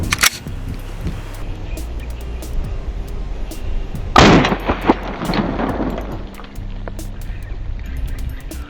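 A single loud, sharp gunshot from a rifle firing a 300 Blackout round rings out mid-clip over steady background hum, followed by a short decaying echo.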